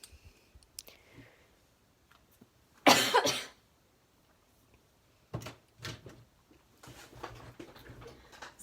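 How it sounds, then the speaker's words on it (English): Several harsh coughs from one person indoors, a loud burst near the three-second mark followed by smaller coughs and throat noises later, with quiet gaps and faint clicks between them. "Sorry, excuse all my coughing"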